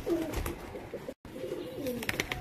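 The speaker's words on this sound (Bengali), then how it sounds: "দেখো আমার বাড়ির একজোড়া পায়রা" A pair of Andhra and Madras high-flying pigeons kept at home, cooing in several low, rolling calls close by, with a brief gap and a few faint chirps near the end.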